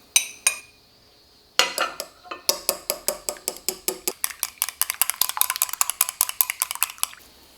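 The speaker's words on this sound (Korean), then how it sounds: "달걀에 옥수수콘, 소금, 후추를 넣고 섞은 후" Eggs whisked with a utensil in a bowl along with corn kernels, salt and pepper: quick, regular clinking strokes against the bowl, a few isolated taps first, then a steady fast rhythm, close and clear with no voices.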